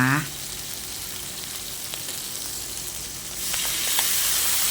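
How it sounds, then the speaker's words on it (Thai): Pork stir-frying in a pan for a water spinach dish, a steady broadband sizzle that swells louder near the end, with faint scraping of stirring throughout. "ผัดหมูให้สุกก่อนนะคะ"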